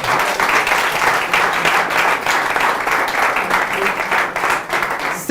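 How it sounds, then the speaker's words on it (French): Steady audience applause honoring Startup Academy members, dense and even clapping from a crowd with no pauses, holding at a constant level throughout. "Est-ce qu'on peut applaudir pour les membres de la Startup Academy?"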